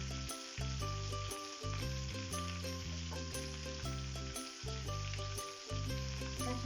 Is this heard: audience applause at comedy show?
no